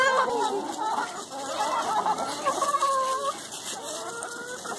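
Hens cluck and squawk steadily inside a hen house, with a black chicken among them; busy overlapping calls stay fairly close and loud throughout.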